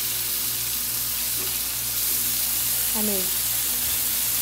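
Food fries in a hot pan on a stove, a steady close sizzle filling the whole stretch while a voice speaks briefly over it.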